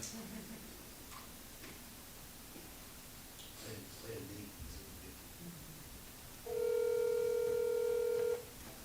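A steady electronic telephone dial tone sounds for about two seconds over a quiet, noisy room background at a commissioners' meeting, with faint clicks earlier.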